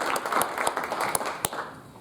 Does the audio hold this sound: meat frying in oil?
no